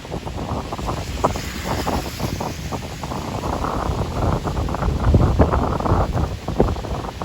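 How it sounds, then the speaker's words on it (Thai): Strong storm wind gusts steadily over a rural spot in Phon Chai district, a loud, constant roaring rush with buffeting against the microphone, and no speech. "พายุเข้านะครับ"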